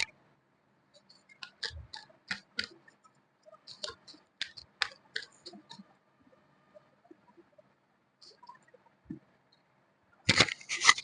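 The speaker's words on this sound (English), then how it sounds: "I'll take out some oracle cards for you." Oracle cards being handled and shuffled at close range, making quiet crisp clicks and taps in uneven bursts, with a louder rustling flurry at the very end.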